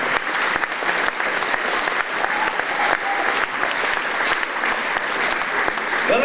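A concert audience in Kyiv bursts into dense, sustained applause, loud and even, with hundreds of hands clapping continuously and no voices standing out.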